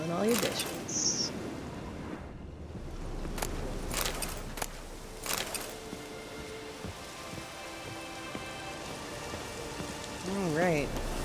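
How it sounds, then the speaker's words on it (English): Soft, steady patter of rain in The Witcher 3: Wild Hunt beneath scattered clicks and thumps, with faint chirping tones and a brief voice-like sound. "Oh, it's raining."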